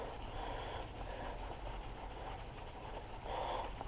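A coarse Scotch-Brite pad steadily rubs the chrome off a Harley FXR part, a continuous close scuffing hiss that swells slightly louder near the end, with no talk.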